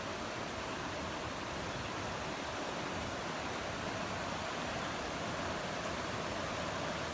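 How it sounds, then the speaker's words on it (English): A waterfall on a creek roars in a dense, unbroken wash of white noise, steady and fairly loud throughout, with no voices. "The falls is back good."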